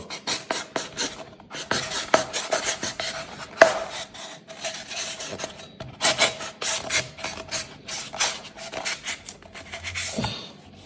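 A sharp Satori kitchen knife slicing through cardboard, giving a rapid run of dry rasping, scraping cuts in quick strokes, close and fairly loud, with no talking.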